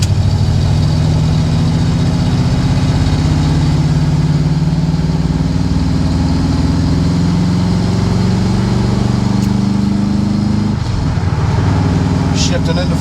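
A C3 Corvette's engine drones loud and steady while driving up onto the interstate, a continuous low rumble that holds nearly unchanged throughout with a slight dip late on.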